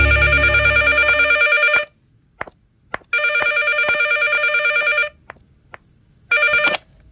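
An electronic telephone ringtone sounds in loud repeated bursts of ringing separated by short silences, with a few faint clicks in the gaps.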